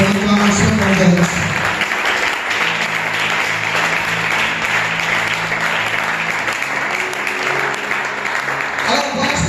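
Applause from a church congregation at a Sunday service, steady and full for nearly ten seconds, with some voices and a low tone mixed underneath.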